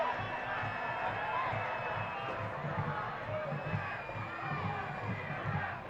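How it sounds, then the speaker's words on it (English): A football stadium crowd at a Birmingham Legion FC versus Memphis 901 FC match jeers the referee, a continuous loud roar of massed voices and shouts, with a commentator talking over it. "Fans certainly letting the official hear their displeasure."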